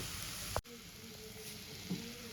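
Spiced masala for a rui fish curry, made with cashew and curd, sizzles in a pan with a steady, even hiss, broken by a short clatter near the start and a small bump later on.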